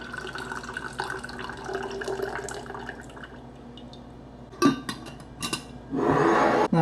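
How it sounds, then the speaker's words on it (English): Brewed tea is poured into a pint jar holding honey, with trickling liquid, a few clinks and bumps, then a louder rushing pour near the end, close by. "I'm going to add this to a pint jar to mix it all up with the honey."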